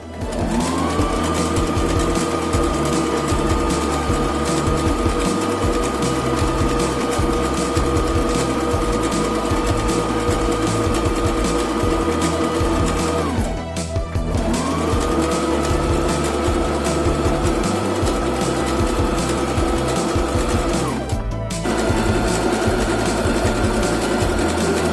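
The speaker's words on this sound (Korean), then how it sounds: "오버록을 한번 해보겠습니다." An overlock sewing machine stitches fabric for a chair cover: a loud, steady mechanical whir that runs almost continuously, with two brief pauses partway through.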